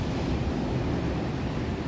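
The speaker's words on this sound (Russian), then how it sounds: "Море бушует и стонет, волны огромные." Heavy stormy Black Sea surf at a beach in Lazarevskoye roars continuously, waves crashing and churning in a dense, unbroken wash of noise with wind blowing across it.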